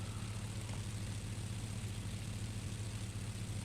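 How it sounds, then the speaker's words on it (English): The external view of a Spitfire Mk.I in the X-Plane 10 flight simulator gives a steady, low, droning engine idle that stays faint and unchanging, with no talking. "That is not a very Merlin-y sounding engine out here on the external view"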